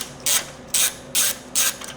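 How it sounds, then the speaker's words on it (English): Bolts being unscrewed from a radiator on a 2006-2011 Honda Civic, four loud, even bursts of ratchet clicking with short pauses between them, close and without speech. "We're just going to need to unscrew those just enough."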